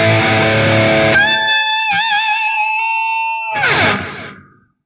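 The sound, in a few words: electric guitar through BOSS GT-5 analog distortion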